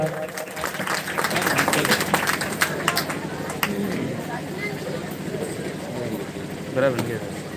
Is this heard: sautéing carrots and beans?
no